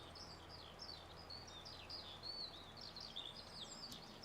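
Backyard birdsong ambience from the video game Farming Simulator 22: several small birds chirp and twitter quietly in overlapping bursts over a soft, steady background, with no voices.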